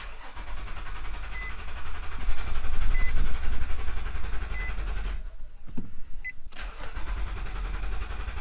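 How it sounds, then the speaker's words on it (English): A 2015 Nissan Murano's ignition is switched on during an oil-life reset, giving a steady mid-pitched car hum and whir from inside the cabin that drops briefly partway through and then resumes, with no talking. "I hold the brake and the gas pedal to the floor while I engage the ignition."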